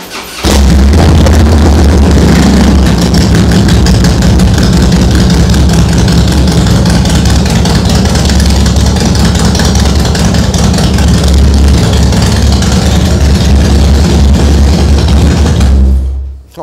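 A Harley-Davidson motorcycle with dual exhaust fires up and settles into a loud, rumbling idle that continues steadily for about fifteen seconds, close to the listener, with no talk over it.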